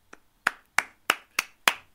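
Crisp single hand claps from a video game's applause round, seven evenly spaced sharp claps at a steady moderate pace, close and clear with quiet between each.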